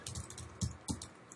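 Brief bursts of quiet typing on a computer keyboard, a short irregular run of soft key clicks with small pauses between them.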